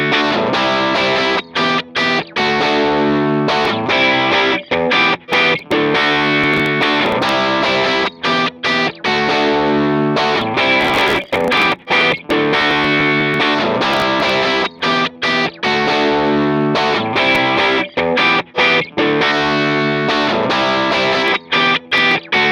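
Heavily distorted electric guitar played through a Line 6 Helix amp modeler using a 3.5 cab model, loud and dense, with steady chugging riffs broken by brief stops, alone without voices.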